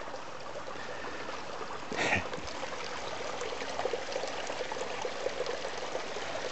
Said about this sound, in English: Natural spring there. Drink that water coming through into here.